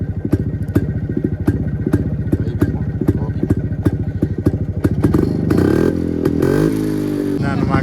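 A 1986 Yezdi Classic two-stroke motorcycle idles close by with a loud, rhythmic thumping beat and sharp crackles, then revs up into a denser, rising roar near the end.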